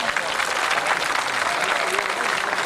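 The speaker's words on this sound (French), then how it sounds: "Et je pense qu'on peut les applaudir très très fort." An audience at an old-style wedding festival in Saint-Moreil, Creuse, claps loudly and steadily in a dense, continuous burst of applause, with crowd murmur mixed in.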